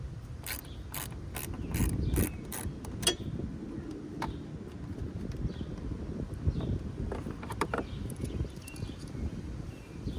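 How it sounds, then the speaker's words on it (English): A car battery terminal clamp is loosened with a hand tool before a terminal puller is used, giving a run of close, crisp ratcheting clicks and metallic taps over a low background rumble. "we're just going to loosen the terminal as you normally would to take it off"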